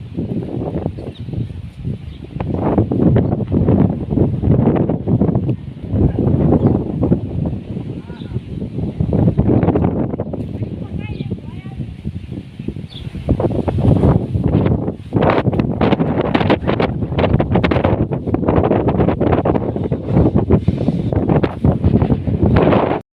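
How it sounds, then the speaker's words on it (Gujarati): Strong wind buffets the microphone in gusty, roaring bursts near a home kitchen, with voices talking over it at times. "આ જો આ પવન છે."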